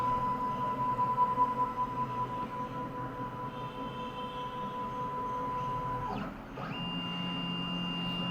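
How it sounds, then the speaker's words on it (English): A kennel tag machine prints an image, giving off a steady mechanical whine with a thin constant tone and low hum. Near the end the running note briefly dips and shifts pitch before settling again. "So it's printing an image now."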